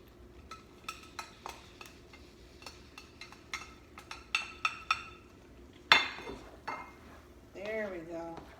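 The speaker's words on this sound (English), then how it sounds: "We're gonna stir this around until the shrimp starts to turn pink." Spoon stirring shrimp and bay leaves in a jambalaya pot, with okra added, giving scattered light clinks and scrapes against the pot with quiet gaps, close and fairly soft, with brief talk at points.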